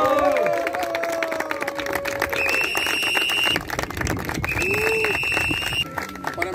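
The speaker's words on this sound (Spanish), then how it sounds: "un minuto de aplausos y porras para el buen Jaguar" Applause and cheering for Jaguar at the opening of a confraternity ceremony in Tepoztlán: dense crowd noise with clapping, shrill whistles and a siren-like tone, held steady and loud throughout.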